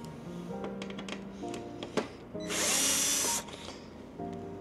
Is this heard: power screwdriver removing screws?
yes